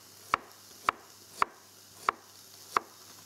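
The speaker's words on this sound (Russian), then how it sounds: "Его я нарежу вот такими вот кольцами." A knife slices a radish into rings on a board, five clean, crisp, evenly spaced cuts with quiet pauses between them.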